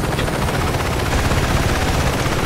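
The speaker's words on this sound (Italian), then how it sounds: "Il mio è un elicottero medico." Medical helicopter in the Saints Row 2 video game, its rotor roaring loud and steady throughout with a dense, continuous thrum and no pause.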